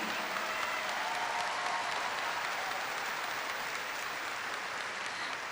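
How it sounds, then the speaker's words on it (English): Graduation audience at a Topeka West High School ceremony applauding students bound for the military, a steady, full roar of clapping from a large crowd that holds at even strength throughout, with no talk over it. "let's give her a thunderous applause, and this gentleman, and this gentleman"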